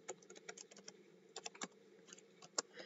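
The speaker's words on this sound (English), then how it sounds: "Go to Google and type getting" Quiet close keystrokes on a computer keyboard tap out a short search in quick irregular bursts, with brief pauses and one sharper key hit near the end.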